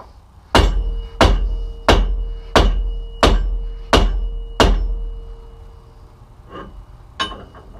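Hammer strikes on the left rear brake drum of a 1951 Willys Wagon: seven sharp metallic knocks at an even pace about two-thirds of a second apart, close and ringing, then two lighter taps after a short pause.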